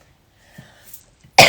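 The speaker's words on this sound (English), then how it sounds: "Clear my throat here." A single abrupt throat clearing at close range during a spoken full moon circle gathering, a loud harsh burst at the very end after a few faint breathy sounds.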